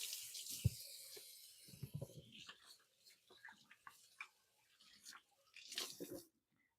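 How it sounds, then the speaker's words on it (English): A kitchen tap runs as hands are rinsed after cubing pork loin, giving a close hissing water flow at the start, then intermittent splashes and small clattering handling sounds before everything goes quiet. "Give my hands a quick rinse."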